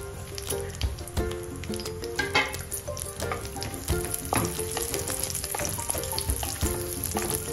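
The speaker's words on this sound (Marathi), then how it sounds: "यामध्ये थोडे ड्राय फ्रूट्स आपण शॅलो फ्राय करून घेणार आहोत। काजू, बदाम, थोडे मनुके" Cashews, almonds and raisins shallow fry in hot oil, giving a steady, close sizzle with crackling pops and occasional stirring scrapes throughout, with no talking.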